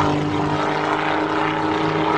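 A Helio HT-295 Super Courier, a short-takeoff propeller plane, drones steadily with a loud, even engine and propeller hum throughout, close by during a flight demonstration.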